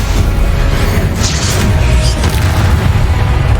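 A Confringo fire-blast spell in Hogwarts Legacy lands as a heavy, booming explosion with a deep rumbling body and crackling bursts on top, loud and close throughout.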